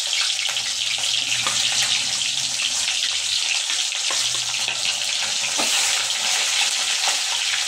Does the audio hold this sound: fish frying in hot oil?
yes